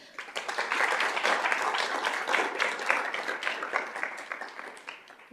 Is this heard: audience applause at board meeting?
yes